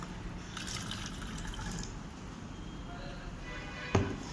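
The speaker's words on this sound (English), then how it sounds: "Again up to 100 ml mark you will pour the cold water, and I am again transferring it to the thermos flask." Cold water poured from a measuring cylinder into a thermos flask, a soft continuous trickle and splash at close range, ending in a brief knock near the end.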